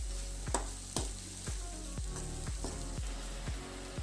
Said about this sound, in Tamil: நம்ம மஞ்சப்பொடி, வத்தல் பொடி சேர்த்து நல்லா மிக்ஸ் பண்ணிக்கோங்க